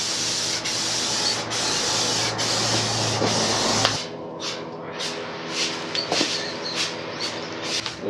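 A steady hiss of a spray can spraying paint onto a Honda Transalp rally fairing and fuel tank for a few seconds, then stops, followed by several short, sharp bursts of spraying close by.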